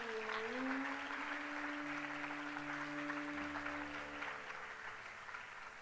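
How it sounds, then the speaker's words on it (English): An audience claps for a performer on stage, a steady fairly faint patter of applause under sustained tonal hum and notes lingering from music. "we would love to have another round of applause for her"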